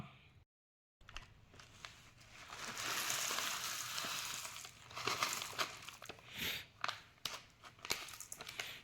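Spicy sev and puffed rice poured into a bowl of bhel with boiled chana, giving a steady dry crinkling and crunching rustle that swells and ebbs over several seconds, close by, after a brief silent gap.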